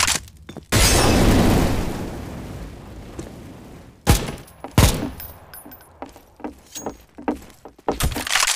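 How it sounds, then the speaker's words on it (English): A grenade goes off in the game CSMOS with a loud burst of crashing, shattering noise that tails off, followed by scattered sharp bangs and clatters of in-game gunfire. "I'm throwing a grenade!"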